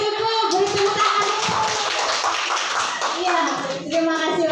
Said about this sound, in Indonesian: Oke, cukup. Beri tepuk tangan.